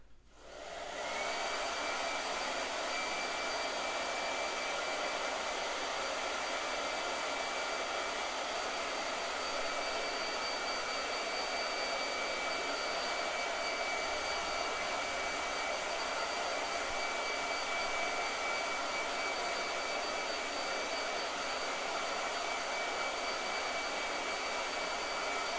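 A blow dryer runs continuously at a steady, loud whooshing roar with a faint high whine, starting abruptly and holding constant for the whole stretch, with no talking.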